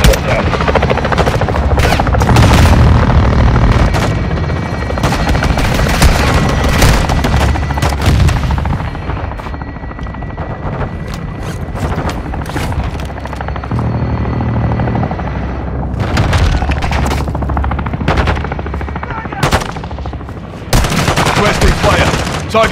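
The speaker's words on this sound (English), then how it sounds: "Weapons hot for gun run." Heavy gunfire and explosions from an aircraft gun run in the Call of Duty: Modern Warfare II campaign, with continuous loud rotor-like rumble and rapid bursts of shooting and blasts throughout, and brief radio voices.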